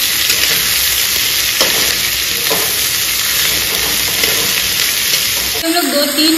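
Onions frying in a pan for a Bihari-style egg curry, a loud, steady, dense sizzle that runs close and continuous from start to finish, with a brief shift in the sound near the end.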